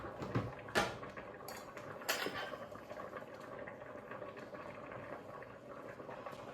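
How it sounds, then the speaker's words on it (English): A whisk beats flour into almond milk and butter in a bowl, with soft liquid swishing and a few sharp metallic clinks early on, quiet and close, with no talk. "And whisk it. You don't want any clumps."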